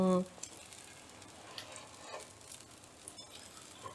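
Dosa cooking on a hot pan gives a steady, soft sizzle that stays fairly even from start to finish, with a brief tonal blip at the very start and no talking.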